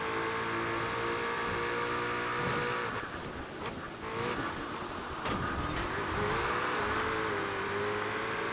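A Quadra V-Tech car in Forza Horizon 4 revs hard and accelerates, its engine tone climbing through gear shifts with a brief dip midway, loud and close with no talk.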